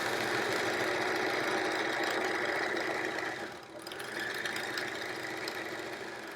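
A sewing machine stitches a Triangle Tango quilt in a continuous close hum, dipping briefly midway as the stitching pauses and then running on steadily.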